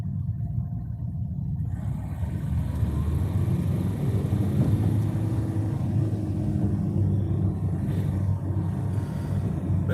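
Vehicles drive past on a road in a low, steady rumble at moderate distance, swelling slightly in the middle, with no talk.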